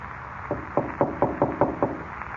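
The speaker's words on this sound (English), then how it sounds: "He knocked at the door and then skipped off down the corridor." Seven firm knocks rap on a wooden door in a quick, even series, close and clear in an otherwise quiet room.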